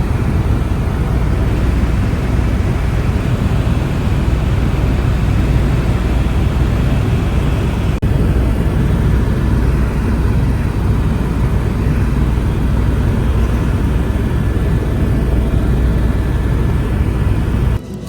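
Helicopter flying over desert near Las Vegas, heard from inside as a loud, constant broadband roar with a steady low drone throughout and no voices.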